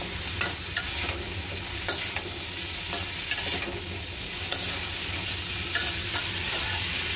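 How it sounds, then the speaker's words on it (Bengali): Food frying in hot oil with a little turmeric in a home kitchen, a steady close sizzle broken by regular scraping stirs of a spoon against the pan, no voices. "একটু তেলের উপর একটু ভাজা দেবো।"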